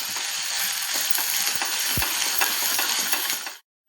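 Malvani masala frying in a pan at home, a steady close sizzle with light scraping stirs throughout and a single soft knock near the middle, ending abruptly.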